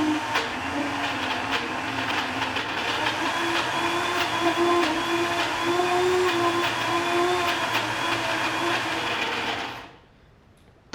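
A blender blitzes garlic into a fine paste with a loud, steady motor whir and grinding churn for about ten seconds, then cuts off abruptly into near silence; no talk.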